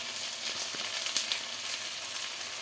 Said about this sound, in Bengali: এবার মশলার সঙ্গে এটা একটুখানি ভাজা হবে